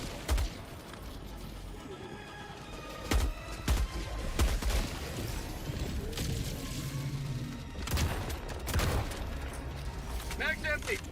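Gunfire in the video game Helldivers 2 crackles in bursts with thuds and mechanical clatter, a busy mix of shots and booms, while a player talks over the action.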